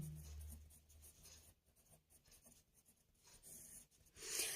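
Pen scratching steadily while working a determinants problem in a math lesson, a soft, continuous scribble that is quiet and close with no talking over it.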